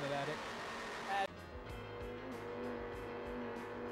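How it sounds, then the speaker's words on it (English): Twin V10 engines of a P1 powerboat racing at Cowes bounce against the rev limiter in a rapid, regular stutter of pulses, heard from a distance beneath commentators' talk. "You can actually hear he's actually on the rev limiter there."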